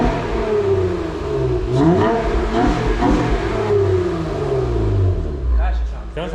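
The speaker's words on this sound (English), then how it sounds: "All right, gonna do rev limiter." Car engine with a newly installed exhaust held against the rev limiter, a loud close rasping drone that pulses repeatedly as it bounces off the limit before dropping away.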